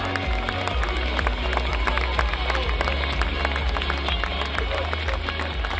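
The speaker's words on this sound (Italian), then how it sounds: "Un grande applauso." A crowd claps and cheers at the ACF Fiorentina 2019 team presentation, with sharp repeated claps over a steady low hum and general crowd noise throughout.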